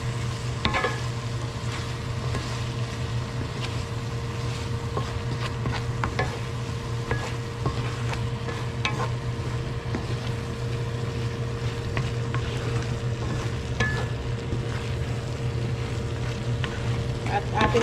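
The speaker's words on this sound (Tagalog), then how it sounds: "Haluin po natin siya." Shrimp being stirred in oyster sauce in a pan, with a soft continuous sizzle, occasional utensil scrapes and taps, and a steady low hum in the background.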